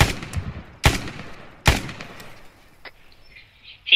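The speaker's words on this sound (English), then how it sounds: "Now I'm just getting shots." Gunfire in the Arma 3 military shooter: three sharp, loud shots spaced under a second apart, each with a rolling echo tail, followed by quieter distant cracks and faint ambient chirps.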